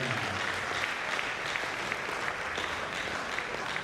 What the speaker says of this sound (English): Can we give him a round of applause together?